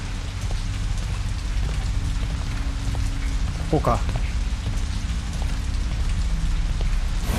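Steady rain falls throughout a rainy horror scene in the game Shadow Corridor 2, a continuous hiss with a low rumble beneath, while a player speaks briefly.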